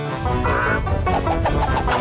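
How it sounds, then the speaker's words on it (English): A cartoon chicken runs loose and clucks loudly in a quick series of close, squawking calls over a busy background, with no talking. "Chicken on the loose!"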